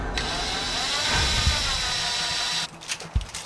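A power drill fitted with a masonry bit bores into a wall while a motion sensor security light is being mounted, a loud, steady whirring grind lasting over two seconds that stops abruptly, followed by a few clunks.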